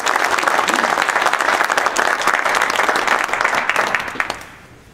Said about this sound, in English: let's give him a warm round of applause for him